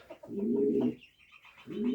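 Pigeons coo close by in low, throaty rolling calls, one phrase after another with a brief pause between, faint chirps above.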